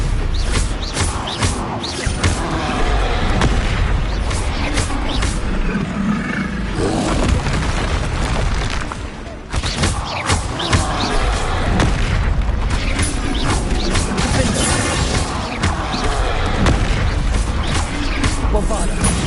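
Bombarda spell explosions in the Hogwarts Legacy video game go off again and again as loud booming blasts and crashes, nearly continuous, over steady game noise.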